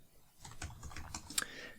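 Quiet, close tapping on a computer keyboard while entering an authorization header in an n8n workflow, a steady patter of soft keystrokes with one sharper click near the end.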